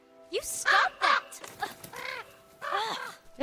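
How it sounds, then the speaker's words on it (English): A crow caws several times in harsh, rasping bursts, close and clear, in The Quarry video game, with a few spaced calls in quick succession. "Why are you yelling at the bird?"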